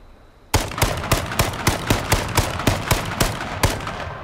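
Gunfire in the video game H1Z1 King of the Kill rings out after a short quiet, a rapid series of about a dozen sharp, loud shots in a fairly even rhythm.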